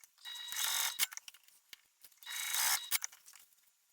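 Metal connectors are riveted onto a handmade backpack: two bursts of hissing, grinding effort, each ending in a sharp metallic click or snap, spaced about two seconds apart and fairly close.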